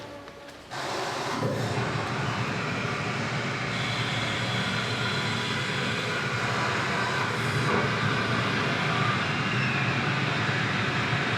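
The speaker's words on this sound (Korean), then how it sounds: "카이스트의 문지 캠퍼스에 이제 이런 로켓 엔진 시험하는 거가 있는데요" A rocket engine test firing at KAIST's Munji campus ignites abruptly and then roars as a loud, sustained broadband rush that holds steady to the end, with no voices over it.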